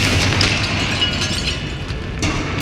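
A Confringo fire spell exploding in Hogwarts Legacy, a loud booming blast with a rumbling, crackling tail and a sharp burst near the end, heard alone.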